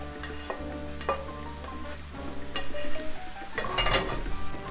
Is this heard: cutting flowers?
no